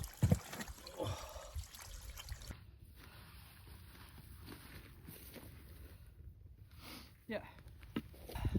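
A small Highland stream in Knoydart trickles faintly and steadily in the background, a low wet babble under occasional handling noises and breathy movement close by.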